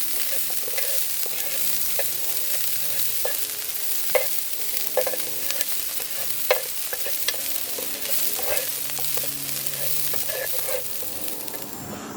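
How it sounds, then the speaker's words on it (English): A spoon stirs a vegetable mixture caramelizing in a pot over gentle sizzling, with repeated scraping clicks against the pot at an irregular rhythm, close and steady, with no voices. "Just keep mixing it, guys, until it's fully caramelized."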